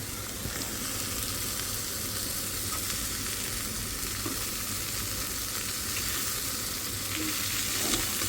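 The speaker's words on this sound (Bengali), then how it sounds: "এখন হলো শাক দিয়ে দেবো শাক ভাজাটা করে নেব" Leafy greens sizzle and hiss steadily in a hot pan, a loud, even crackle with occasional faint stirring scrapes.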